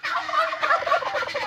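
A turkey gobbles close by, a loud, rapid burst of warbling gobbles that rolls on for over a second, alone without talk, on a farm where the turkeys are being separated.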